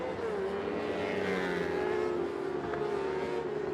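Superbikes lap a track during national championship qualifying, several engines droning steadily and close together, one pitch gliding downward as a bike works its way through the pack, continuous and fairly loud with no voices.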